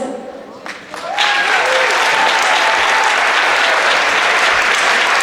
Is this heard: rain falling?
no